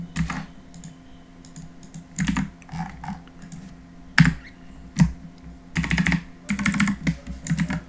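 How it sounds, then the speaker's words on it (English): Computer keyboard typing for keyboard shortcuts while setting up a D&D 5e framework in MapTool: close, crisp clusters of key presses in short irregular bursts, separated by brief pauses, with no voice. "You can use your keyboard shortcuts to make it quicker."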